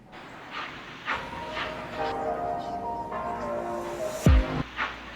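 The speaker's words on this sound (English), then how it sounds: "We're maintaining reliable operations on my N-scale model railroad today." An N scale model train runs on a layout, with a steady low rumble, bell-like tones and a sharp hiss near the end, heard close and clear.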